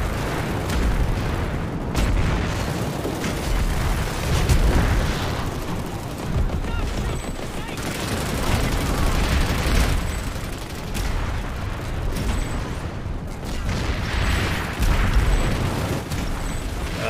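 Battle noise in the sci-fi shooter Planetside 2 on the Oshur island map: a dense, continuous wall of weapon fire and rumbling blasts, loud and steady throughout with no clear pauses.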